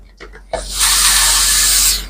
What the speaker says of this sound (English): with my melting spray, I'm just doing this just to keep the lace down while I do everything else.